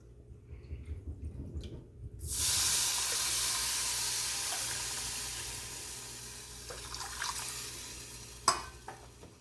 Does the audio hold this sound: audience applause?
no